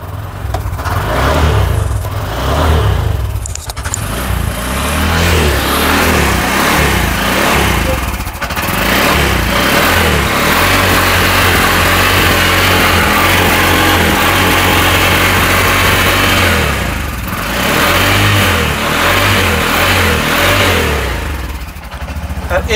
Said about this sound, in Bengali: গাড়ি স্টার্টও কিন্তু হয়ে গেছে ইঞ্জিন সাউন্ড তো পুরো নতুনই